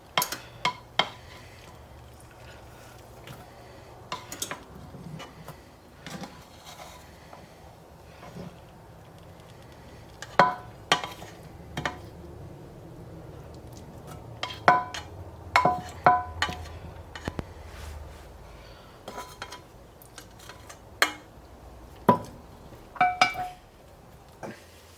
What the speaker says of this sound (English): We're going to remove the vegetables into our casserole, trying to preserve as much of the fat in the pan as we can.